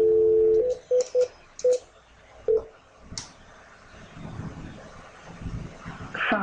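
Telephone keypad tones dial an extension on a Cisco phone system, five short clear beeps in an uneven rhythm, followed by faint background noise and a soft click.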